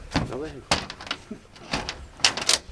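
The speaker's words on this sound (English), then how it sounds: "can you close the door, Abe?" A door pulled shut with a couple of bumps and a firmer thud near the end, heard close up among people talking.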